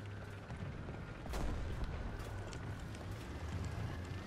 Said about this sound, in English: We got the guy from Alpha starting to shoot at us.